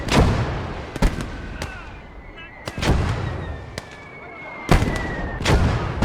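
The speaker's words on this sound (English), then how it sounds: "So I ordered my mortar to engage theirs." Mortar fire in the WW2 video game Gates of Hell: Ostfront, on the Soviet side, comes as several sharp, booming blasts spaced a second or two apart, with fainter battlefield noise and whistles in between.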